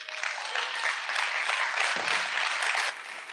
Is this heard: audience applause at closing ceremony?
yes